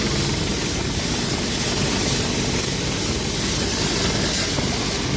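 A tractor engine powers a threshing drum separating ripe chickpeas in a Ghed farm field, a loud, steady, unbroken mechanical roar with a rushing, whooshing edge and no voices.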